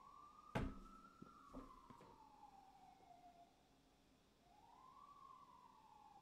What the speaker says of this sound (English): it's like the ambulance knows exactly when I'm talking